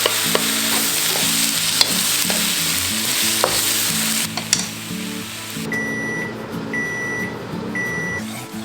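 Carrots and mixed vegetables stir-frying in a pan, a steady loud sizzle with scraping stirs, then a microwave-like hum and a few electronic beeps toward the end.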